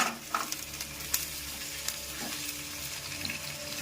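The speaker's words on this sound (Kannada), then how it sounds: "ಇದೇ ಬಿಸಿನಾಗೆ ಟೊಮೆಟೊ ಹಾಕ್ಕೊಳ್ತೀನಿ" Two tomatoes dropped into a still-hot pan after the stove is switched off, while making avarekalu saaru, giving a soft steady sizzle with small pops and faint stirring scrapes, close and alone.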